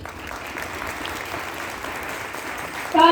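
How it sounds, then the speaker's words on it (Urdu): A church congregation applauds, a dense, steady wash of clapping from many hands that carries on evenly and swells slightly at the very end, where a voice cuts in. "پہلے زوردار تالیاں بجائیے."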